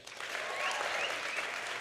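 Audience clapping at the Holiday Theater during a Mixed Taste evening event, a steady, moderately distant round of applause from a sizable crowd.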